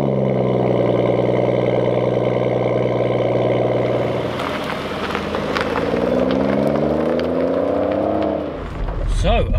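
A BMW M140i fires up with a loud start and settles into a steady, rumbling idle, its note rising and falling as the throttle is blipped, ending with a brief thump. No talking is heard.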